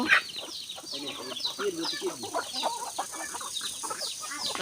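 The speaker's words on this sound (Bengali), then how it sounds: "দেখছো কত সুন্দর মুরগিগুলো" Chickens cluck busily while pecking at grain and broken maize scattered for them in a farmyard, a close, continuous flock chatter with someone talking over it.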